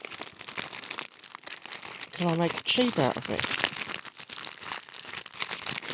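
A piece of card taken from a book being bent and folded, giving crisp crinkling and crackling bursts up close, mixed with a person talking.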